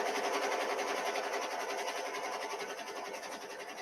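An embroidery machine stitches a fall towel design, a fast, even mechanical whirr with rapid repeating needle beats that runs on steadily and fades slightly toward the end.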